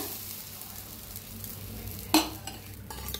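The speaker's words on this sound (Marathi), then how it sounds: "गॅस मध्यम ठेवून चांगलं भाजून घ्यायचं।" Moong dal dry roasting in a pan over a medium gas flame, giving a faint, steady scraping and rustle with one sharp clatter partway through, no voices.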